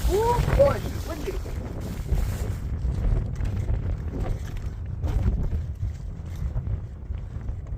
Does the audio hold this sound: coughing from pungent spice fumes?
no